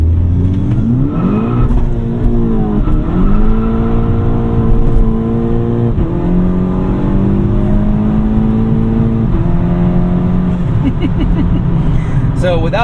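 Stage 2 tuned Mk6 VW GTI with a K04 turbo, intake and downpipe launching hard with traction control off, engine note rising loudly through several gear changes amid wheelspin, close and continuous.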